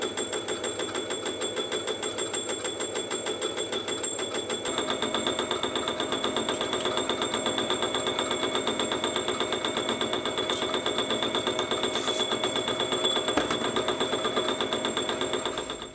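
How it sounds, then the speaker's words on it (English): A 200mm fly cutter on a milling machine faces a piece of aluminium, giving a steady rapid ticking, rattling rhythm over a constant motor whine that grows slightly fuller partway through, heard close with no talking. "Definitely not the quickest way to face off a piece of aluminium"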